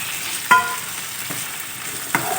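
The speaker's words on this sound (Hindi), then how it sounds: "और प्याज के साथ हमने इन आलूओं को फ्राई कर लेना है।" Thick-cut potato slices fry with onions in hot oil, giving a loud, steady close sizzle broken by two sharp clanks of a spoon stirring the pan.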